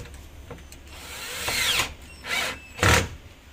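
A power drill drives screws into a modular office workstation panel, with three short rising whirring bursts spaced about a second apart, each louder than the last, over low background rumble.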